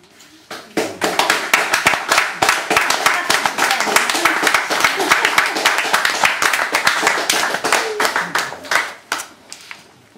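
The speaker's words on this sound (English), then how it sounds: "more applause please for Keith and Suzanne Drake" Audience applause after a poetry duo's performance, dense hand clapping sustained for about nine seconds at steady strength before tapering off, with a few voices mixed in.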